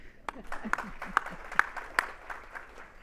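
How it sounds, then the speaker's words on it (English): Scattered, uneven hand claps from an audience at a business expo economic outlook keynote, a few sharp claps standing out over a thin murmur of voices for about three seconds. "And so now you can applaud."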